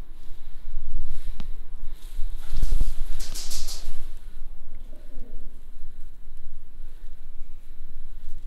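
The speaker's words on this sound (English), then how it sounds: "There's a lot of pigeons up here." Pigeons coo softly in an abandoned car park stairway, a low murmur under steady hollow room noise, with a couple of brief bumps and a short burst of fluttering in the middle.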